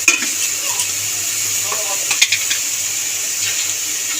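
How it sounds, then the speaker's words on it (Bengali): A spice paste with salt and turmeric is stir-fried in a pan, giving a soft continuous sizzle with a few scraping and clinking stirs. A brief faint voice sounds at one point. "ভালো করে মশলাটাকে কষিয়ে নেব"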